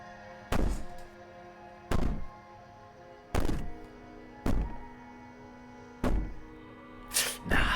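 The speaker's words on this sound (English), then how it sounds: "Maybe the banging and wailing will stop if you just don't pay attention to it." Heavy thumps banging on a door in the video game Slay the Princess, six loud evenly spaced knocks about a second and a half apart.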